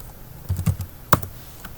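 A handful of quiet, scattered keystrokes on a computer keyboard while an SQL inner join query is typed, a short burst followed by one sharper tap, with no talking.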